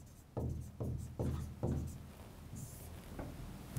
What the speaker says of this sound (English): So let me write down the summary here.